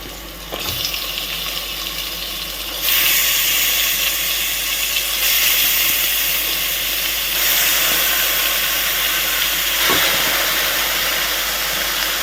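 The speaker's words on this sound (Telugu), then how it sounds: "ఫస్ట్ చక్కగా కడిగి పెట్టుకున్న చికెన్ దీంట్లో వేసుకుందాం." Washed raw chicken tipped into a hot pan for chicken curry, a loud burst of hissing, steamy sizzle that jumps up partway and holds steady, with a few knocks of the pan and no talking.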